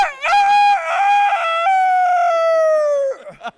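A man loudly imitates a rooster's crow, a long drawn-out call that rises, holds and tapers off, followed by a brief breathy sound.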